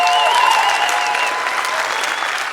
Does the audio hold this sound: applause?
yes